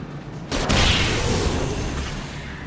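A flare pistol fires in the video game Alan Wake: a sudden loud boom about half a second in, followed by a sustained roaring, hissing rush that slowly fades as the flare burns.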